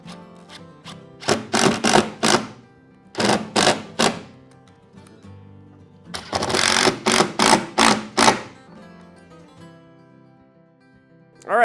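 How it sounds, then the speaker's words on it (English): A power driver sinks 1 1/4 inch screws to attach a storage piece for a miter sled on a saw, heard as repeated short buzzing bursts in clusters with pauses between, close by and loud. "I'm just going to attach this with 1 1/4 inch screws"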